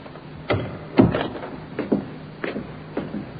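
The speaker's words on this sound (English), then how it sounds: "The door, Inspector." In a night-time radio drama, a door opens with a handful of sharp wooden knocks and creaks spread across a few seconds, moderately close, with no voices.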